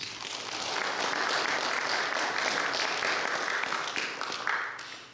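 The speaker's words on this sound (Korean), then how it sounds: "이런 은혜의 보좌를 허락하신 하나님께 우리 감사의 박수를 올려드립시다" Church congregation applauding during a worship service, a steady, dense wash of clapping that holds evenly for about five seconds before easing off at the end, with no talk over it.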